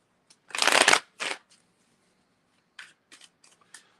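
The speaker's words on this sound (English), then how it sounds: "Let's shuffle your card really good." Tarot cards shuffled by hand, a loud riffling burst followed by a shorter one, then several soft, quick card flicks and taps close up, with no talking.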